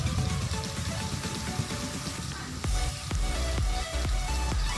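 Artificial rain sprayed down on a TV shooting set, a steady dense patter of water hitting surfaces with a few heavier splashes later on, close and continuous with no talking.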